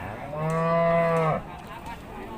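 A single cow lets out one clear, close moo of about a second at a cattle market in Warin Chamrap, Ubon Ratchathani, followed by faint background bustle.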